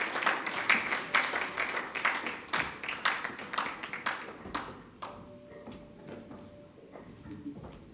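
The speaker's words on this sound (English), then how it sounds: "Can we clap for these ladies and gentlemen for a job well done?" Audience applause at a sustainable finance curriculum launch, a dense burst of many hands clapping that fades out after about five seconds, leaving scattered claps and room noise.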